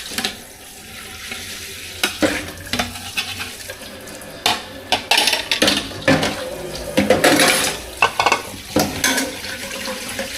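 Water runs from a household tap in intermittent splashy bursts, mixed with clattering and stirring noises as things are rinsed nearby. The sounds are close and uneven over about ten seconds, with no talking.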